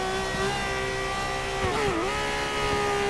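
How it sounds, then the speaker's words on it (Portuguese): A Ferrari FXX K engine in Forza Motorsport 6 holds a loud, steady high-pitched wail that dips briefly with a gear change and then climbs again, alone and close. "curtindo o som de motor de carro"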